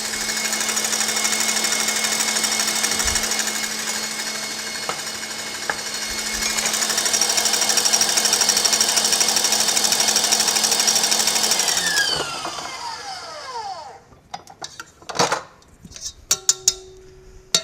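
An electric mixer whips egg whites for a souffle, its motor humming loudly and steadily at close range for about twelve seconds before switching off, followed by clattering utensil and bowl knocks.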